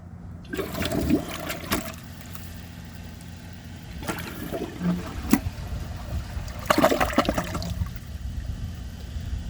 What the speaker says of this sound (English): So it took a couple flushes, but it did pretty well actually